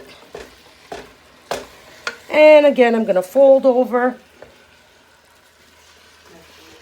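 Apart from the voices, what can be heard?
ground meat sizzling in pan for chili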